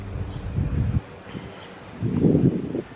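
A light breeze on a hot summer day outdoors brushes past in two soft gusts, a low rustling rush that swells, eases and rises again nearby.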